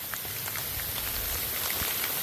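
Rain falls steadily in a forest during mushroom foraging, a dense even hiss with scattered drops tapping nearby.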